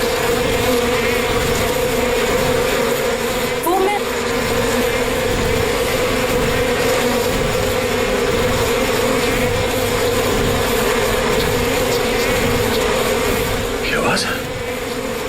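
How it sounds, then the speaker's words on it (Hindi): A dense swarm of honeybees drones steadily and loudly throughout, a continuous buzzing wall with a faint voice briefly audible beneath it. "किसी ने मधुमक्खी को छेड़ दिया क्या?"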